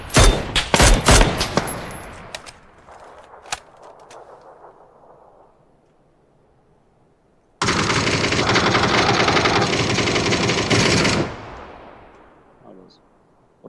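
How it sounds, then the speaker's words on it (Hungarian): In a war video game, a quick burst of gunfire fades into near quiet, then a car explosion erupts into a loud, sustained roar for several seconds before dying away. "Robbans rájuk az autó."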